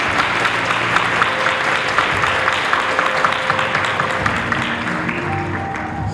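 Steady, dense applause from an audience at a Jack and Jill cotillion, honoring a debutante, continuous and full for about six seconds with a faint tone threading through.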